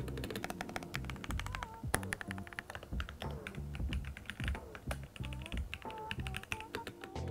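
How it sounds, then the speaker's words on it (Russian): Rapid typing on an ROG mechanical keyboard with factory-lubricated switches gives dense, crisp clicks and clacks in an uneven, continuous rhythm, close and clear over a faint tonal background. "Это механические переключатели, сверхплавное, мягкое и приятное нажатие на клавиш."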